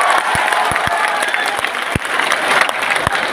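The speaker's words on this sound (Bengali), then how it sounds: "কেশৱ মহন্তৰ জন্য একটা বড় হাততালি" A large audience at a medical college inauguration in Assam claps enthusiastically, a dense burst of sustained applause with a few louder individual claps, fairly loud throughout.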